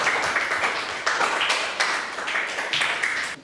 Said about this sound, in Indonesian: tepuk tangan untuk kelompok terakhir, kelompok kelima